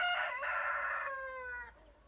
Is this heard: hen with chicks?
yes